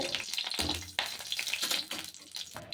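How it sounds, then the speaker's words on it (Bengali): Black cumin seeds and dried red chillies fry in hot oil in a pan, a steady close crackling sizzle with a few stirring scrapes, no voices. "কয়েক সেকেন্ডের জন্য কালো জিরে আর শুকনো লঙ্কাটাকে একটু ভেজে নেবো"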